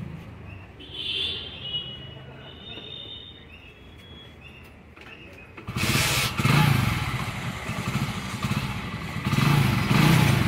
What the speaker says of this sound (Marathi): किक मारना पड़ेगा.